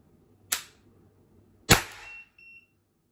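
An HDR 50 air pistol fitted with a long steel tuning barrel fires two sharp, loud cracks about a second apart. A brief hiss and a faint electronic beep follow the second shot.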